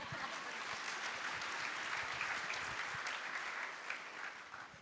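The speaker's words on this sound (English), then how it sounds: "You can applaud, it's okay." Applause from a conference audience at a national immigrant inclusion plenary, a dense steady clapping that fills the space, fairly soft and distant, with no voices over it.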